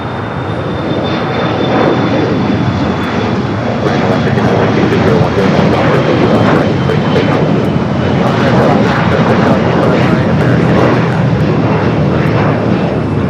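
Boeing 777-300ER jet airliner on arrival at LAX, a steady, loud broadband engine roar that holds evenly throughout as the aircraft passes fairly close.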